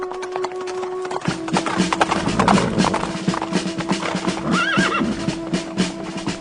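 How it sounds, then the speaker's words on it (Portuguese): Horses arrive with steady clip-clopping hooves and an occasional whinny, set against a dramatic orchestral backdrop with sustained tones. "vejo alguns homens chegando a cavalo"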